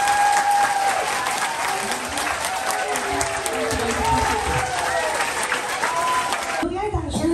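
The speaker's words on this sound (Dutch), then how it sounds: "Applaus voor Guus en applaus voor Heidi." A crowd applauds a young reading champion and a companion at a ceremony in Middelburg, sustained lively clapping with some voices mixed in, cutting off abruptly near the end.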